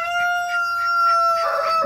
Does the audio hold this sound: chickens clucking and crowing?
yes